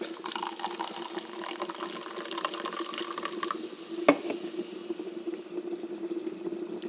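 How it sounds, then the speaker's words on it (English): Lemon lime carbonated water pours steadily from a can into a cup nearby, a continuous fizzy trickle with a single soft knock partway through. "you open up this can of lemon lime carbonated water and you pour it into this cup"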